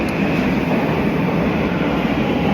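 A train runs at a Japanese railway station, a steady loud rumble of wheels and carriage noise that holds constant throughout with no talking.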